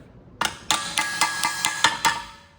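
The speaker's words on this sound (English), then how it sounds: "So I have my flat anvil and a panel beater's hammer." Panel beater's hammer striking a metal propeller on a flat anvil, about eight sharp metallic ringing blows in a fairly even rhythm, close and clear with no talking.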